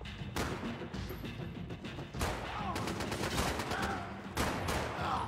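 Sustained gunfire in Max Payne 3 rattles throughout: overlapping shots and automatic bursts with sharp cracks, fairly faint overall, dense and continuous rather than isolated single shots.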